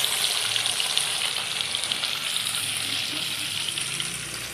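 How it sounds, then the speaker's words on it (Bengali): Chital fish frying in a pan makes a loud, dense, continuous hissing sizzle heard up close, unbroken for the whole stretch, with no voices. "আজকে মার দায়িত্ব মাছ ভাজা"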